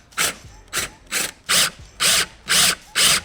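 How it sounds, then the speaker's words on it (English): A power drill drilling a bung hole in a small boat whirs in seven short, evenly spaced bursts, close and loud, each pulse starting and stopping sharply. "now we've picked the time to drill a hole in our boat"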